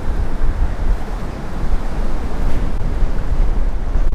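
Strong wind blows across the Milwaukee Harbor lagoon during a brown trout fishing trip. It makes a loud, steady roar and buffets the microphone the whole time, with no talking.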